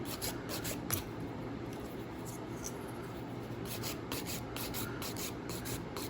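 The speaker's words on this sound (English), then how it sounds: "See how much shaping and filing I'm doing?" Steady rubbing and rasping from a nail file shaping thick acrylic nails on an extra-long Christmas apex set, continuous and close throughout with no talking.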